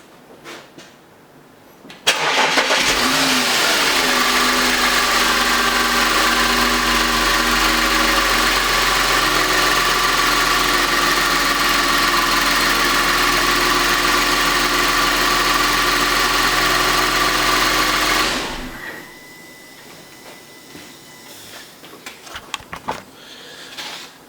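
A 3.2 FSI V6 in an Audi A8, just back together after intake carbon cleaning, cranks briefly and catches, then settles into a steady, even idle for about sixteen seconds before shutting off, followed by faint clatter.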